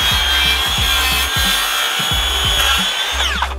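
A brand-new hand saw cuts through wood in steady back-and-forth strokes, loud and close, with a rhythmic rasp on each pass and no voices.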